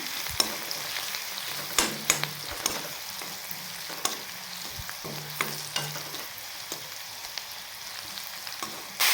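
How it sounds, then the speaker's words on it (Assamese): Drumstick flowers stir-fried in a pan, with steady sizzling and repeated sharp clicks of a utensil scraping and tossing against the pan, close and clear, no voices. "আকৌ এবাৰ ধুনীয়াকৈ লৰাই ভাজি ল'ম।"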